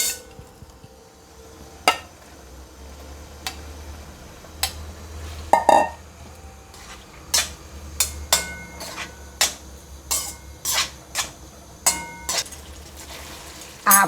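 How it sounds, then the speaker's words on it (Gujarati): Paneer cubes frying in oil in a pan for an Indian-style chilli paneer, with a low steady sizzle beneath sharp metal clinks and taps of a utensil against the pan recurring irregularly throughout. "આ પનીરને બધા આપણે તેલમાં લઈ લઈશું અને એને થોડીક વાર માટે ફ્રાય કરી લઈશું"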